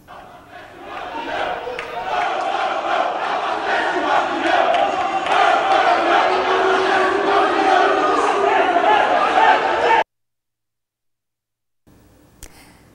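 Organized supporters chant and roar together in the stands of the Criciúma stadium during a Criciúma vs Chapecoense football match. The loud, sustained crowd noise stops abruptly, followed by near silence and a brief faint sound.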